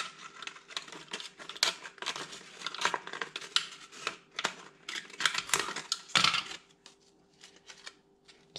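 Scissors snip repeatedly through a thin plastic bottle, slitting a cut ring so it opens into one long strip, with crisp irregular cuts and crinkling plastic close by.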